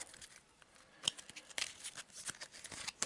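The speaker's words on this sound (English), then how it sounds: "So let's give it a quick shuffle and a quick cut." Soft, rapid riffling and flicking as a deck of Arkham Horror game cards is shuffled and cut, a quiet run of papery clicks and snaps with a louder snap at the end.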